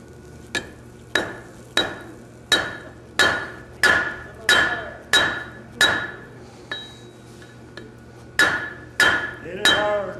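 Steady hammer blows on hot metal during forge-welding at a blacksmith conference, about fifteen sharp ringing strikes at an even pace with brief pauses, close and loud against a low hum.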